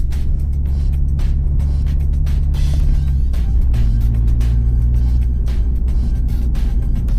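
A 2026 Toyota GR86 Yuzu Edition drives on a track with a loud, steady engine drone heard from inside the car, and the pitch steps as the car shifts gears.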